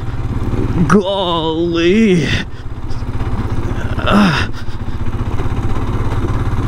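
Royal Enfield Scram 411 scrambler motorcycle ridden off road, its close, loud single-cylinder engine chugging steadily with brief revving swells, while the rider exclaims and talks over it.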